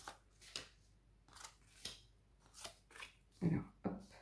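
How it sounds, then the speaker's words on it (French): Tarot cards being drawn one by one from a deck during a reading: a handful of soft, close papery swishes and slides, spaced irregularly, with a louder flick near the end and a quiet room behind. "Et je vais tirer 9 cartes."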